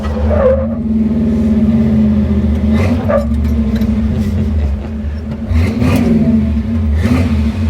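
A V8-powered Jeep CJ5 revs hard on a downshift, loud and close, with a steady throaty engine note broken by several sharp throttle blips.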